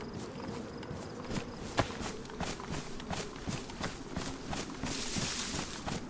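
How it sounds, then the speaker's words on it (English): Footsteps in the survival video game DayZ, a run of soft, irregular crunching steps nearby, faint and scattered over low ambient game noise. "I hear the footstep right by me"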